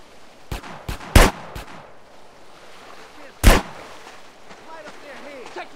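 Gunfire in GTA San Andreas with a Resident Evil mod: a quick run of four sharp shots, the third loudest, then a pause and one more loud blast, each cracking out over a quiet background.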